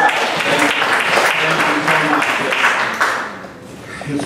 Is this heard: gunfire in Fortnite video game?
no